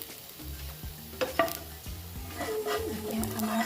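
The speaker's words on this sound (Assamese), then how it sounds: "অকণমান দেৰি আমি ভাজি ল'ব লাগিব, মানে অকণমান ৰঙচুৱা কৰি ল'ব লাগিব বেচন পিচ" Besan pieces fry in oil in a kitchen pan with a steady low sizzle, broken by a few sharp metallic clinks and scrapes of a utensil against the pan, close and without talk.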